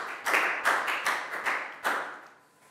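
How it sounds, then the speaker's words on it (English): A small class of Year 4 pupils gives a short round of applause in a classroom, a few sharp uneven bursts of clapping with gaps between them, close and fairly loud, fading out after about two seconds. "Big round of applause for Prowl"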